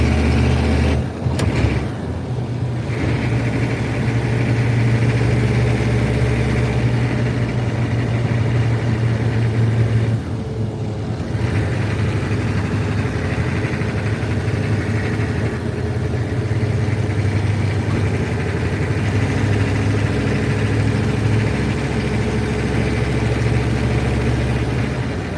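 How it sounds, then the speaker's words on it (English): A Humvee engine drones steadily and loudly throughout, a continuous low rumble with little change in pitch, heard from inside the vehicle while driving. "headed to work in the Humvee, looking for some gas"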